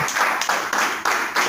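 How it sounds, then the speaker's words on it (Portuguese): A church congregation clapping hands in unison, loud and close, in a steady rhythm of about three claps per second. "Bate palmas para Jesus, irmão."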